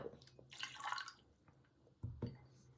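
Whisky poured down a drain: a splashing, trickling liquid gush in two bursts separated by a quieter gap, close and moderately loud, with faint dripping in between.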